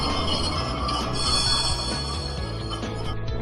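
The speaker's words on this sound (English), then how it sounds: "Tram." A rail vehicle rumbling steadily with rhythmic wheel clatter and a faint metallic squeal, loud and close, no voices.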